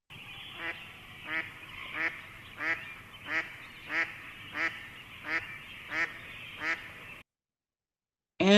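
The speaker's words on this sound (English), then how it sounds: "The mallard really has that traditional quack" A mallard duck gives its traditional quack call, about nine evenly spaced loud nasal quacks about once per second, then a short silence before another sound cuts in.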